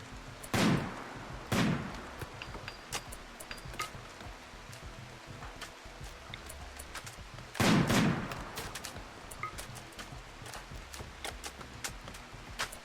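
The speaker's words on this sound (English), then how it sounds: "Maker's now trying to shoot me with his sniper rifle" Sniper rifle shots ring out in the colony game RimWorld, three sharp separate reports spaced several seconds apart, each with a short tail, over quiet background with small clicks.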